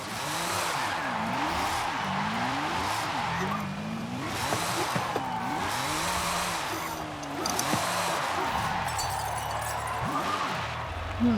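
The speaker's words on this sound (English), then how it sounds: "well, this is me drifting Horizon 5." A car drifting in Forza Horizon 5, its engine note rising and falling through repeated revs while the tires squeal almost without a break, loud and close.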